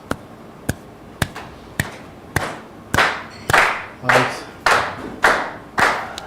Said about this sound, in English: I'm going to need y'all to kind of clap to the beat